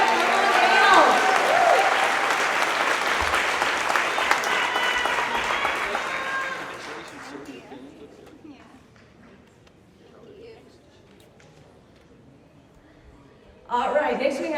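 Audience applause at a workplace monthly celebration, loud full clapping with some cheering that tapers off after seven seconds into murmuring, then a burst of clapping returns at the end.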